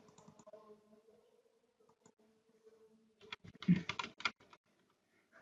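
Computer keyboard keys tapped while working in an Excel sheet, sparse clicks at first and then a quick burst of close typing near the end, with no speech.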